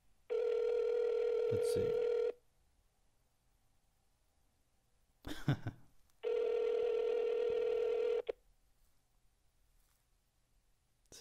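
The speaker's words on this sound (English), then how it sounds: "It's ringing a lot." A phone ringback tone sounds twice, each long buzz about two seconds, separated by a pause with a brief clatter; a voice murmurs softly.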